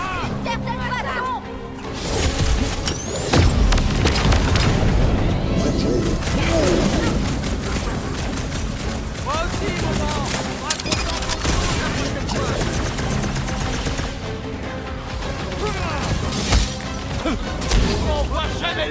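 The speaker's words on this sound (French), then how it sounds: "Explose tout, Rocket" Gunfire and explosions in the video game Marvel's Guardians of the Galaxy, a loud, continuous barrage of shots, crashes and impacts layered over game music, with voices talking through the action.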